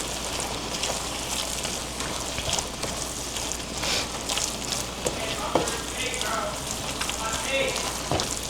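Taco meat seasoned with Cajun spice sizzles and crackles in a pan, a steady hissing fry with occasional sharper pops, moderately quiet and continuous throughout.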